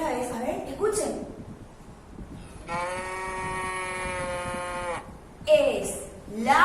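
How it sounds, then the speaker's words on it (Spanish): A cow lets out one long, sustained moo lasting a couple of seconds, clear and close, with a person talking just before and after it. "Ustedes tienen que repetir también en sus casas el sonido de la vaca."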